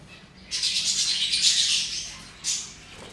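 A flock of birds at a bird farm breaking into a loud burst of shrill squawking and chirping that swells, fades, then flares again briefly, close by with no talk.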